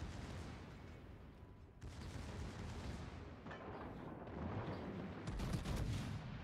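Gunfire from the battleship Hannover in a naval combat video game, a series of booming salvo blasts and rumbling reports layered over a continuous low roar, with sharper bursts toward the end.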